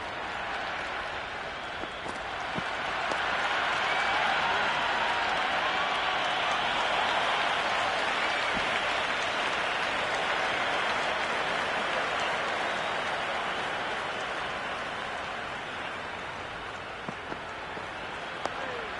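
Cricket crowd in the Cricket 26 video game during an Ashes Test in Australia, a steady wash of applause and crowd noise swelling and then easing off over about twenty seconds.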